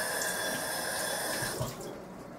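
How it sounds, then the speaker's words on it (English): Water runs steadily from a kitchen tap during handwashing while cooking tofu enchiladas, a close, constant splashing rush that thins out near the end. "I will wash my hand"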